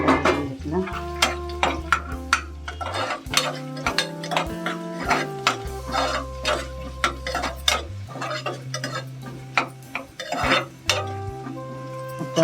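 Chopped onion stirred and frying in a hot pan on a low gas flame, with steady sizzling under repeated scraping and clinks of a spoon against the pan, close and busy throughout.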